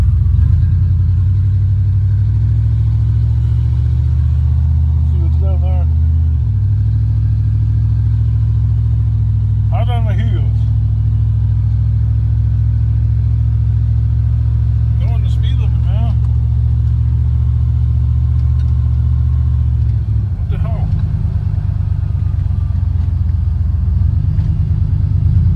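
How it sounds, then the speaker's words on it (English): A car engine rumbles loudly and steadily at close range during a scrap-collecting outing, the low drone continuing with brief revs while people talk over it. "Here comes a car."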